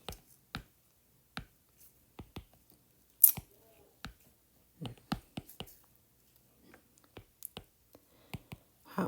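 Calculator keys are pressed one at a time in irregular bursts, each giving a crisp, close plastic click separated by quiet pauses while numbers are typed in.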